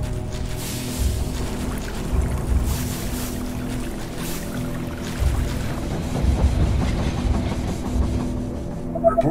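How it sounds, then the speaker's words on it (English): A train pulling into a station in the strategy game They Are Billions, heard as a steady, dense rumble and clatter of rolling carriages that continues throughout with slight swells. "The train has arrived at the station."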